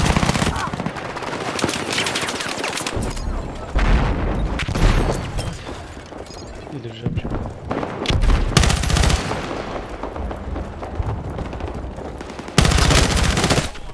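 Rapid automatic gunfire in Battlefield 6, with M4A1 rifle bursts and heavy booms, loud and near in repeated volleys with brief gaps between them.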